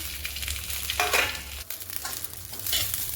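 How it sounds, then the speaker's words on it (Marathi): Cluster beans fry in a little oil while being stirred, a close, continuous sizzle broken by a few louder scrapes and tosses of the spatula. "यामध्ये आपण थोडंसं तेल टाकणार आहोत आणि गवारी भाजून घ्यायची आपल्याला."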